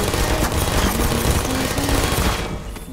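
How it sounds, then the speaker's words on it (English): Turrets in the Portal: Prelude mod of the video game unleash a loud, dense burst of rapid gunfire that runs continuously and cuts off near the end. "There's a lot of turrets in there."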